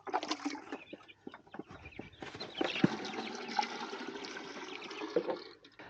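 Water splashes and trickles into a chicken waterer with a gurgling, running flow, while hens cluck faintly nearby.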